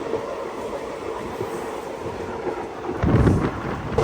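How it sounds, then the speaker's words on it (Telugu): A long passenger train made up of sleeper, AC and general coaches runs past a level crossing on a Kerala line, a continuous heavy rumble with wind buffeting the microphone, which swells louder and closer near the end. "ఇప్పుడు వెళ్ళింది కదా ట్రైన్"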